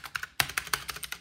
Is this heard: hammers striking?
no